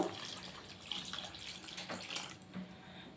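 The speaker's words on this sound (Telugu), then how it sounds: "చింతపండు రసం పోసుకుంటున్నాను" Tamarind juice poured into a pot of boiled vegetables, a soft splashing, trickling pour with small drips, close and fairly quiet over about three seconds.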